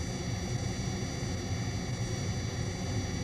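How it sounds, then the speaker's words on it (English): Synthesized jet engine noise plays as a steady, broadband roar at a moderate level, unchanging throughout, with no voices. "Let's listen to how this jet noise can be altered when parts of it are filtered or removed."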